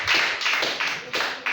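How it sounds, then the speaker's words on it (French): A church congregation at a French-language sermon bursts into rhythmic clapping, a few quick bursts of hands in close succession, loud and lively with no talking over it. "Acclamons très fort."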